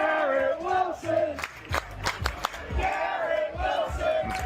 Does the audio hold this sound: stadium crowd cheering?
yes